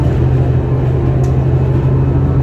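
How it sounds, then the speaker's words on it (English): A rough, jolting bus ride through New York, heard from inside as a steady, loud, low engine and road rumble that fills the clip without a break, with no talking. "This is a rough bus."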